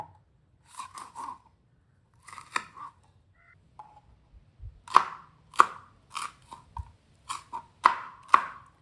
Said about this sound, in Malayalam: ഓക്കെ, ഇതിലേക്ക് വേണ്ട കുറച്ച് പച്ചമുളക് അരിഞ്ഞെടുക്കുക.